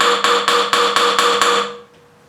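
A hammer strikes a wheel key to knock loose the bolts on a rear wheel during a wheel refurb: about seven loud, sharp metallic blows in a steady quick rhythm, then a ringing decay into quiet.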